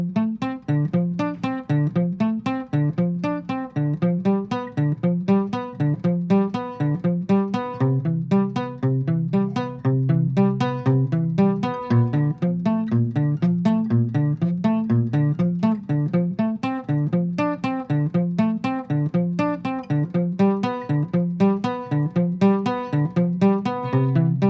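Fingerpicked guitar plays the riff of a song, a steady, looping pattern of plucked notes with a recurring accent, played alone at an even tempo.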